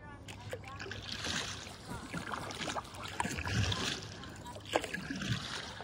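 Paddle strokes in a small boat at a narrows, with soft splashes and water sloshing at a steady rhythm, close by, under moderate outdoor background noise and some voices.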